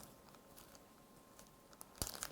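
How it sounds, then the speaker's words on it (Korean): A plastic wrapper is opened during a hands-on build of a paper centrifuge: faint, quiet crinkles come first, then a brief cluster of sharper rustles and crackles near the end. "비닐을 열어서"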